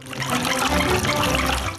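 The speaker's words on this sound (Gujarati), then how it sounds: "તમારા ચશ્માને સાબુના પાણીથી ધુઓ" Soapy water runs and splashes steadily over a pair of eyeglasses being washed by hand, a close, continuous wet trickle lasting under two seconds with no voices.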